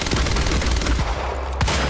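Advanced SMG fire in the video game Quantum Break, with loud, rapid continuous automatic bursts close up that fill the short stretch and end with a final sharp shot.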